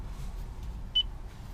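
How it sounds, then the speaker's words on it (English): A single short electronic voice-command beep sounds once, faint and high, over a low steady cabin hum in a 2012 Toyota Prius Plug-in. "pressing this button here, after the beep, say a shortcut you can talk command to the radio"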